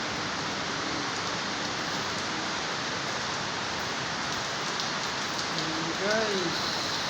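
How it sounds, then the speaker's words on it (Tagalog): Heavy rain pours down steadily, a dense unbroken hiss of drops drumming on surfaces, loud and constant throughout, with a brief faint voice-like sound near the end. "Lalo pang lumakas ang ulan."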